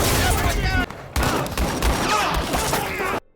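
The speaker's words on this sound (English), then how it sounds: "then gunfire erupts" Gunfire erupting in a film standoff, a dense, loud barrage of overlapping shots and automatic bursts that pauses briefly, resumes, then cuts off abruptly.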